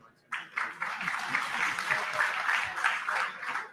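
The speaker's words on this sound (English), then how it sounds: "please acknowledge a warm round of applause for Club Export La Réunion" An audience at a France–South Africa business forum breaks into sudden, sustained applause, many hands clapping together in a dense, even burst lasting a few seconds before easing slightly.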